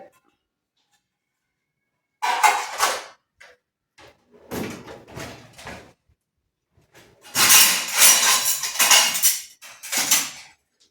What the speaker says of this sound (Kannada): ಬೆಳಗ್ಗೆ ಎದ್ದ ತಕ್ಷಣ ಇವ್ರ ಕೆಲಸ ಎಲ್ಲ ಪಾತ್ರೆನೂ ಜೋಡಿಸಿಡ್ತಾರೆ